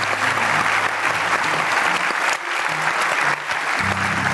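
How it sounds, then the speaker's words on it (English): Steady, loud applause from an audience, a continuous wash of clapping that carries on throughout without letup. "How about a round of applause for both Kevin and Stu?"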